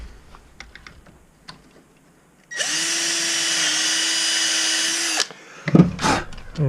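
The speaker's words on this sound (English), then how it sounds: "So take the smaller diameter drill, drill this out." A smaller diameter drill bores out a hole in a Poulan 295 chainsaw with one steady, loud whine lasting a few seconds, set between quiet handling clicks and followed by a brief clatter.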